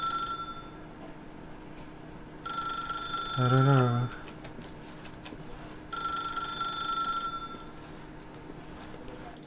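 A telephone rings in The Stanley Parable video game, two long electronic ring bursts separated by a pause, fairly loud and steady, with a brief spoken line over the gap.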